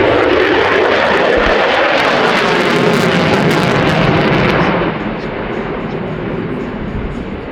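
A Lockheed Martin F-35A fighter jet of the RAAF roars past during an airshow display at Avalon, a loud sustained broadband jet rumble that eases slightly as it moves away.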